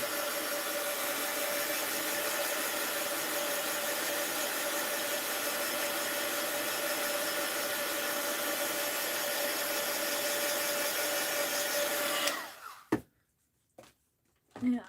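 A heat tool drying sparkly paint on a mixed-media art journal gives off a steady, even blowing whir with a constant hum running through it, then cuts out near the end, leaving a few short knocks and sounds.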